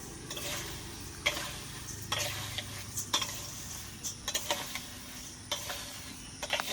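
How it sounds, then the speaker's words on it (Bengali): Rice and mung dal being mixed for khichuri in a karai over a clay stove: repeated scraping stir strokes with a soft steady sizzle underneath, close and moderately quiet, with no talking. "এরপরে এই চালগুলোর সাথে এই ডালগুলো ভালোভাবে মিশিয়ে নেব"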